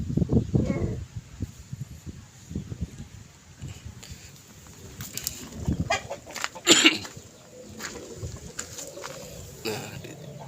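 Several chickens, including Burmese-cross birds, cluck and squawk nearby in short, irregular bursts, with a louder squawk partway through, over faint background noise.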